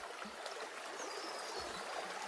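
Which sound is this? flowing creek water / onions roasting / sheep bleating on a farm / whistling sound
flowing creek water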